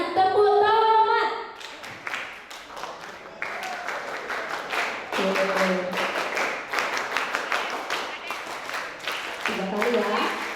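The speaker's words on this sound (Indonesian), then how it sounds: "Dengan tepuk selamat." Audience at a school graduation and farewell ceremony doing rhythmic tepuk selamat clapping, a patterned burst of claps in sets, moderately loud, with voices and chatter mixed in.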